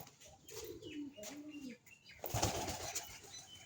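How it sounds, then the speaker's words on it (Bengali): Pigeons cooing in a repeated low rumbling rhythm, then a burst of wing flapping close by, with faint background noise. "কবুতরের যন্ত্রণা।"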